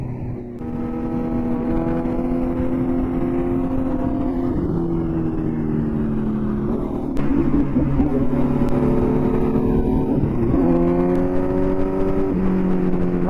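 Car accelerating hard in fourth gear at high speed, a loud, steady engine drone with rising harmonics that dip and climb again at each throttle change, continuous for the whole stretch.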